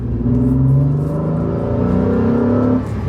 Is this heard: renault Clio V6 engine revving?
yes